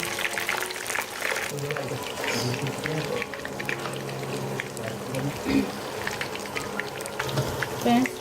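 Chicken lollipops deep-fry in oil with a dense, steady bubbling crackle that runs the whole time, close and fairly loud, while a voice talks over it.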